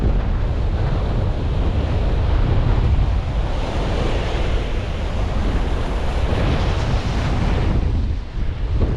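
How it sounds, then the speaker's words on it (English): Strong night wind by the Humber estuary roars steadily into the microphone, a loud continuous buffeting rush with waves mixed in and no talking. "I'll take you out here so you can see what the wind's like out of the shelter"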